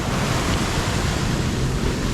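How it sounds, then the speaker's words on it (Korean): Ocean surf breaking at Copacabana beach in Rio de Janeiro, Brazil, a steady loud wash of waves with wind buffeting the microphone, no voices. "네가 파도 타봐"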